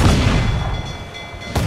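A ship's cannon fires in the pirate video game Assassin's Creed Black Flag during an ocean battle, a loud, close, booming blast that rumbles and decays over a second or so, then a second sharp burst at the end.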